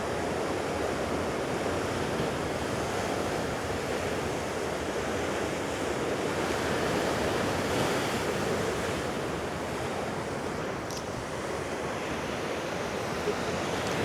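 Big, strong ocean waves break on the Costa de la Calma shore in Mallorca, making a loud, continuous roar of surf mixed with gusting wind blowing in from the sea.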